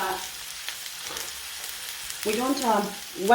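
Cabbage frying in a pan with peppers, a steady close sizzle throughout, with a person talking over it toward the end.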